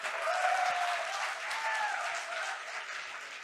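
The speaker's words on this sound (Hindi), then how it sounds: "जोरदार तालियां।" Loud, sustained applause from an audience at a speaking event in India, filling the space evenly and easing off slightly toward the end, with no voices on top.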